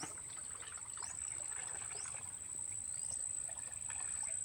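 Water at the edge of a stream trickling steadily and faintly, a soft continuous flow with a few light splashes and a thin high insect-like whine running above it.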